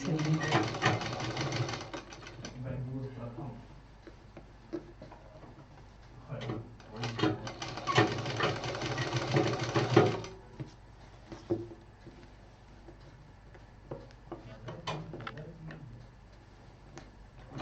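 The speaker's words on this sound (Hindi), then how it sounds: "रिंग के किनारे किनारे इसको टाइट से सिल देंगे।" Sewing machine stitching fabric tightly along the edge of a ring on a foldable hanging pouch, running in several short bursts of rapid needle rattle with pauses between, under a voice speaking.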